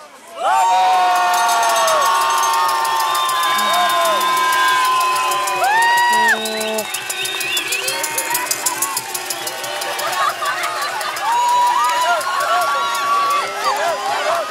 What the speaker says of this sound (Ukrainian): Подивіться, і з того боку плескають Віталію Кличко